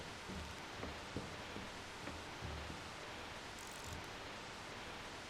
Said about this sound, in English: Only shows white noise.